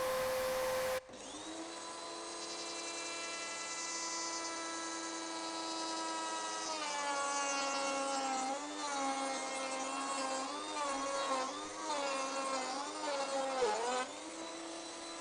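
A Gude OFT 855 router in a small DIY router table milling wood with a vacuum dust extractor attached, a loud steady high whine that shifts in pitch as the bit bites into the timber.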